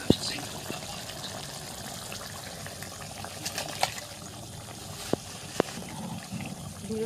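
Water is poured into chicken masala cooking in a pot on a clay stove, producing a soft, steady liquid rush and sizzle with occasional clinks, while someone talks quietly.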